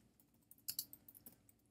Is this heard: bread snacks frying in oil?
no